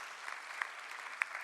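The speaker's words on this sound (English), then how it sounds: "I think it deserves a good round of applause from all our members here." An audience at a business leadership workshop applauds, a steady wash of clapping heard from some distance, fairly soft, with a couple of sharper individual claps standing out.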